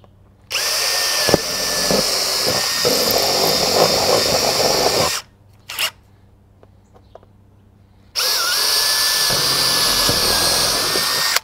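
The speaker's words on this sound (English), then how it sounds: "So I'm gonna use my impact gun." Cordless impact gun driving screws with washers into a stainless steel hose reel mount, two long loud bursts of whirring and hammering with a brief quieter gap and short blip between them.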